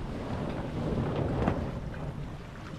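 Steady wind rushes and buffets across a sailboat under way in about five knots of breeze, a dense continuous roar with gusty swells and no voices.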